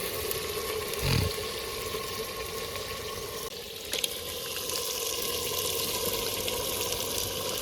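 Chicken pieces go into a hot pot for chicken handi cooked outdoors by a river, making a loud, continuous close sizzle with a couple of brief knocks and no talking.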